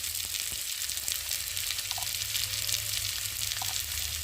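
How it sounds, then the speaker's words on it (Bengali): Cut potato pieces sautéing in oil in a pan for a fish curry with drumsticks, a steady close sizzle with faint stirring scrapes, no talk. "তাহলে একটু ভালো করে কষিয়ে নিই, একটু ভাজা ভাজা মতো হয়ে গেছে আলু কাটাটা।"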